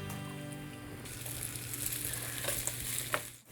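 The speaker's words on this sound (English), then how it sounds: "That's a good sizzle." Potato waffle batter hissing and sizzling in a hot waffle iron, a steady close-up crackle that grows brighter after the first second, with faint clatter and no speech.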